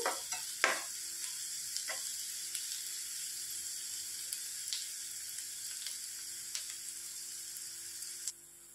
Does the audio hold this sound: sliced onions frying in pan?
yes